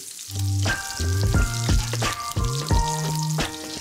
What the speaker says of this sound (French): Pendant que mon magret est en train de cuire